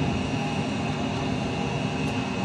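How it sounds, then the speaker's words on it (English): An EA-6B Prowler jet takes off from an aircraft carrier in a flight simulator game, a steady, even engine roar that holds loud and unbroken for a couple of seconds. "And there's the takeoff, positive climb, gear up."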